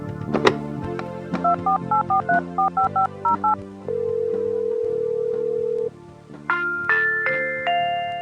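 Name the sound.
telephone keypad dialing tones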